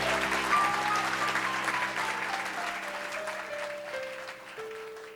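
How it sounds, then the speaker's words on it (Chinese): An audience at a stage singing contest breaks into loud, sustained applause that slowly fades, with a lingering musical tone underneath. "希望今天的表现能够获得你最热烈的掌声"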